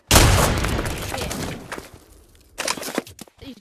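Loud rapid gunfire bursts in a WWII shooter video game, an opening volley that fades, then a second burst of shots near the end.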